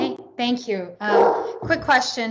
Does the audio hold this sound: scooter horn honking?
no